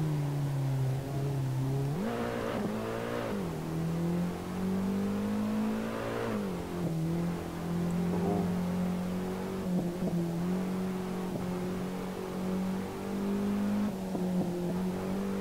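A BMW M3 E30 in Assetto Corsa drifts down a mountain touge road, its engine droning steadily and loudly with repeated revving swells and dips as the throttle is worked, and faint tire squeal.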